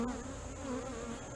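Honeybees buzz close by during a beehive inspection, a faint steady drone with wavering tones as individual insects hover and shift around the open hive.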